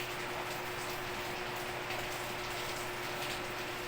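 Steady rain pours down in a dense, even hiss, close and constant with no voices over it.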